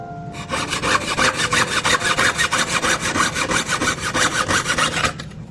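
A hand saw, likely a fret or scroll saw, cuts out a wooden lion dance figure along a marked outline, its rapid, even rasping strokes loud and close for about five seconds, then stopping.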